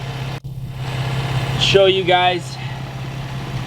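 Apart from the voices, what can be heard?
engine of Infiniti G35 idling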